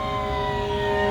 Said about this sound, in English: Let me let this ambulance go past.